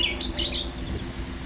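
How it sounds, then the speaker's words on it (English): Native birds sing at a fenced, rodent-free golf course in New Zealand, a few bright chirps and short trills early on over a soft outdoor hum, then fading to quiet ambience. "now the home of a thriving native bird population"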